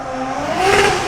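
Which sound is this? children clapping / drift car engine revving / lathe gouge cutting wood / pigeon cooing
drift car engine revving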